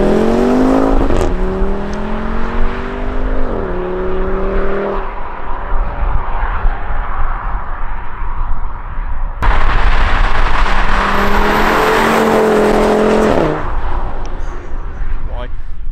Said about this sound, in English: I think the engine is just outstanding. It sounds like a baby V10